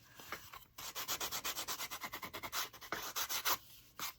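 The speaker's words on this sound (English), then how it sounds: "Now I'm going around my block just a little bit. Just kind of lightly distressing the edges." Sandpaper lightly rubbed around the edges of a scrap wood block to distress it, a quick run of rhythmic scratchy strokes, close and fairly loud, with no talking.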